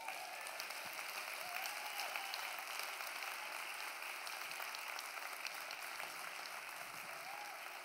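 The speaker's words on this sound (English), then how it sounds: "Please give them a huge round of applause." Faint, distant audience applause at an impact investing conference, steady even clapping lasting the whole stretch with a hissy, rain-like texture and no voices.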